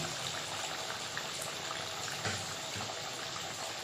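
Snacks fry in hot oil, a dense, even bubbling sizzle heard up close without pause for a few seconds, with no talking over it.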